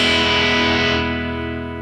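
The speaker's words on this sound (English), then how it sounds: "I could actually get a little bit of overdrive out of that amp just using this." Electric guitar played through an amp with a Warm Audio C1 chorus/vibrato pedal giving light overdrive: one sustained, distorted chord ringing out loudly and slowly fading.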